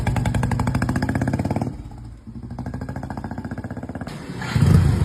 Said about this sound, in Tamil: கஸ்டமர் ஓட்டி பார்க்குறோம்